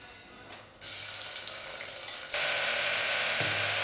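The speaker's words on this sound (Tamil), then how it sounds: "எண்ணெய் சூடாகுதுங்க. வெங்காயம் போட்டுக்கலாம்." Chopped onions dropped into hot oil for mutton kurma erupt into a loud, steady sizzle that jumps sharply in intensity twice, with no talking.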